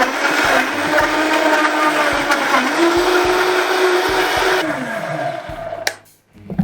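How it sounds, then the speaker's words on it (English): A high-speed blender whirs loudly and steadily, its motor pitch shifting as the load changes, then cuts off abruptly near the end. "You're going to put it on your high-speed blender."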